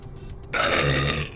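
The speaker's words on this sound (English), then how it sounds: "Sorry, I'm burping." A single loud, close burp lasting under a second, with no other sound around it.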